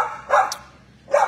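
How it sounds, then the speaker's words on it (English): A dog at an animal shelter gives two short, close barks about a second apart. "a dog, like I said, over 30 days, needs some help, needs somebody to adopt, foster, or rescue Willow"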